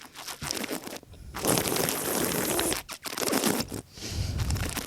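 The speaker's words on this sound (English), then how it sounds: "So we aerate it in our mouth, taking it in, slurping it, and then you probably heard me spitting it in a cup." Wet slurping and spitting of wine during a tasting, with wine aerated in the mouth and then spat into a cup; noisy, broadband bursts close up with brief pauses between them and no talking.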